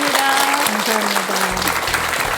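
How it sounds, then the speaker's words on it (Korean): Audience applauding a Buddhist monk at the close of a televised two-hour lecture, a dense steady clatter of clapping heard under a host's voice throughout the short stretch. "큰 박수 한번 부탁드리겠습니다"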